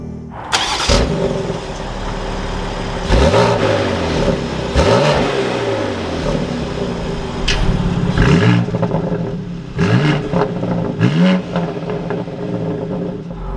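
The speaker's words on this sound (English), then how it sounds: "with my foot on the brake, we can go ahead and start it up" A 2021 BMW X3 M Competition fires up, catching with a sharp bark, then settles into idle and is blipped through a series of quick throttle revs that rise and fall repeatedly, loud and close.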